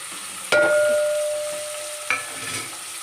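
Chopped tomato and onion dropping into hot oil for a Bangada fish green masala, hissing in a steady broadband sizzle with two sharp clanks of a stirring spoon against the pan, close and fairly loud, no talking.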